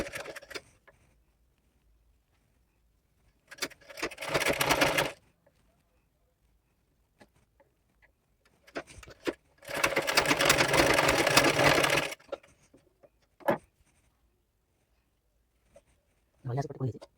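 Domestic sewing machine stitching piping onto a baby frock in two bursts, a short run and then a longer steady whirring run of about two seconds, close and clear, separated by quiet pauses with small handling clicks.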